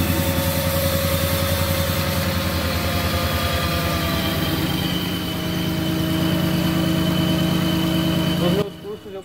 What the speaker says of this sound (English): Look, listen to the engine.